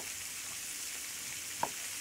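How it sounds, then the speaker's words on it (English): Chicken pieces laid skin side down in a hot pan give a steady, loud, close sizzle throughout, with one brief small tap partway in. "And in goes the chicken, skin side down."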